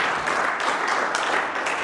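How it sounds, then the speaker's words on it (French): Applause from a church congregation during a Sunday worship service, a steady dense wash of clapping filling the whole moment at moderate loudness with no speech over it. "On acclame d'abord pour la parole."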